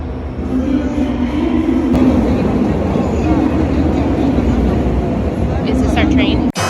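A train in Japan, near Sapporo, rumbles close and loud as a continuous low roar with faint voices mixed in, followed by a brief clank just before the end.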